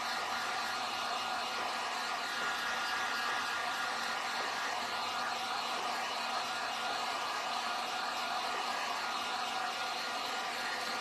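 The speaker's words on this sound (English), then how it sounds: "And you can dry on your stencil." Hair dryer blowing steadily to dry paint on a stencil for a Nutcracker porch leaner, a continuous close whooshing hum with no pauses and no speech.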